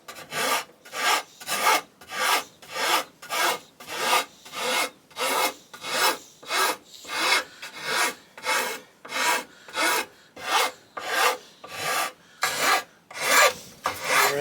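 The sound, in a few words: rasp filing wood of a live edge table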